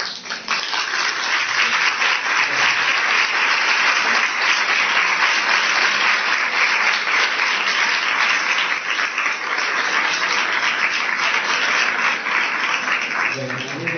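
Sustained audience applause fills a panel talk hall, a dense steady wash of many hands clapping at even loudness for about fourteen seconds, with no voices over it.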